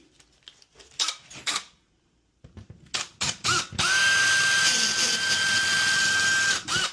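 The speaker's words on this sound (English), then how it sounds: "So yeah, I have to drill this out." A few clicks and knocks, then a power drill whines steadily for several seconds at high pitch, close and loud, biting into a metal stud.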